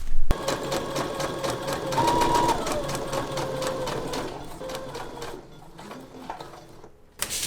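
A sewing machine runs basting stitches along an earlier basting line, a close, steady rattling hum that slows and eases off near the end before a short click.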